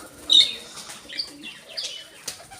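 Birds chirp in short bursts amid light wing flutters, with quiet gaps between calls; a pigeon loft's scattered sounds, fairly close.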